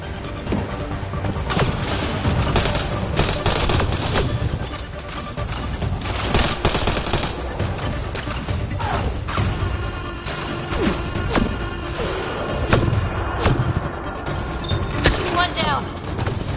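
Gunfire from the video game Mass Effect Andromeda rattles in dense, overlapping bursts and crashes for the whole stretch, with explosions and impacts mixed in and game dialogue speaking over the fighting.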